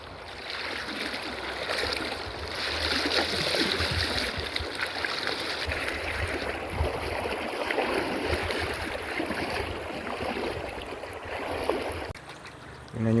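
River water flows near Mount Daraitan, a steady close rushing that swells slightly and then eases near the end, with no one talking over it.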